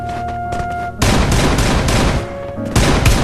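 Gunfire in an online shooter game, a quieter stretch followed by a sudden loud burst of rapid overlapping shots that carries on densely with another sharp volley near the end.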